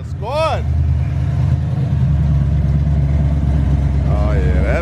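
A fuel-injected big block Chevy V8 rumbles at a loud, close, steady idle with a deep low throb, while voices shout briefly over it at the start and end.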